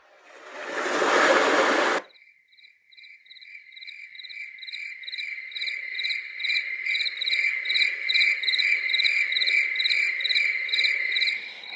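Frog ambient sound played from a Dekala Arches smart ambient lamp: after a brief burst of noise, rhythmic chirping calls repeat steadily and evenly in a loop, a chorus of high pulsing croaks over a faint low hum.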